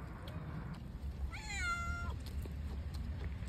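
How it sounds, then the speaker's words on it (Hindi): A cat near a nighttime barbecue by a graveyard gives one clear, drawn-out meow midway, moderately close over a low rumbling background hum. "देखते हैं कौन सी बिल्ली जो है हमारी हड्डी पकड़ती है।"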